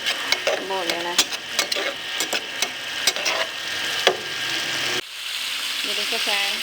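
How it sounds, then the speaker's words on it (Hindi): Macaroni masala is being stir-fried in a pan, with a crackling sizzle broken by repeated sharp spoon scrapes and taps against the metal, close and busy, and a brief pause near the end. "इसको अच्छी तरह से आप भून लेना है"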